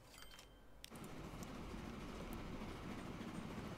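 A train runs on rails in the video game Transport Fever 2, with a steady, continuous rumble of wheels after a brief quieter opening, heard alone at low level.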